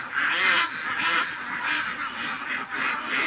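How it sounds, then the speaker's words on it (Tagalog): Pet ducks quacking as they forage for food, with several loud, close, rasping quacks repeating in a fairly regular rhythm. "So yan na po ang ating mga alagang itik. Hanap na ng pagkain."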